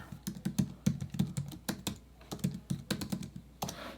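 Fingers tap quickly on a computer keyboard in close, uneven bursts of clicky keystrokes, typing a search into a design app, with no other sounds.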